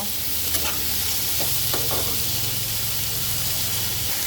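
Spices sizzle steadily in hot oil in a pan for a tengra fish curry, with a constant loud frying hiss and a few brief scraping strokes of a spoon stirring.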